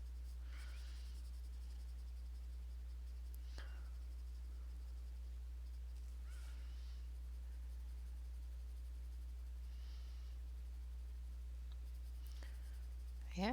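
Faber Castell Classic pencils scratch faintly across paper in short, separated strokes, quiet and close over a steady low electrical hum.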